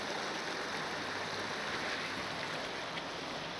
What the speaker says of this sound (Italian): Sotto la ditta il fiume scorre!